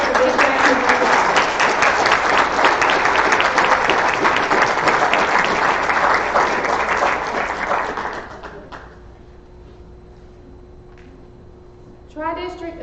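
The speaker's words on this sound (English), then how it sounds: "Please give all our graduates a big round of applause." A large audience at an adult education graduation ceremony gives the graduates a sustained, dense round of applause that holds steady for about eight seconds, then tapers off into quiet room tone.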